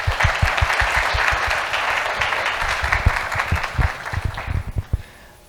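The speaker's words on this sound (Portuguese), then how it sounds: "uma salva de palmas para o André" Audience applause for a speaker at a technical talk on mobile networks: a crowd claps steadily, then the clapping thins into scattered individual claps and dies away at the end.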